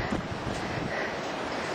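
Strong wind blowing through a snowstorm, a steady, loud broadband roar buffeting the microphone without a break and with no talking.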